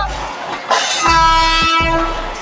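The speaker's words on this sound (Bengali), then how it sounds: "এই যে ট্রেন ঢুকে গেছে আমাদের" A Delhi Metro train horn sounds loudly with a sustained, steady tone, while the deep rumble of the train rolling into the station fills the background.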